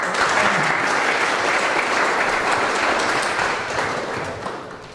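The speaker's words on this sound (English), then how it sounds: "please give a round of applause for Seamus" An evening crowd at a Liffey Trust startup event applauds a speaker coming up. Thick, even clapping rolls on steadily for several seconds, then begins to thin slightly toward the end.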